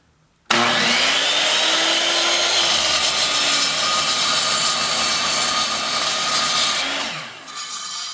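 A nice piece of wood is sawn steadily for about seven seconds, a loud continuous rasping cut that starts abruptly and trails off at the end while shaping scale lumber.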